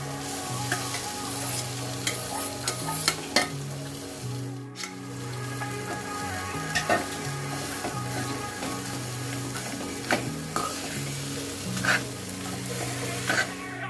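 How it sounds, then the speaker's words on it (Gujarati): Boiled potatoes, broken into pieces by hand, are tipped into a pan with turmeric and stirred for Mumbai-style batata vada filling, giving a steady soft sizzle with repeated scraping and knocking of the spoon against the pan. "હવે આ બટાકા જે મેં એને આખા ભાગા ચૂંદી લીધા છે એ નાખી દઈશ."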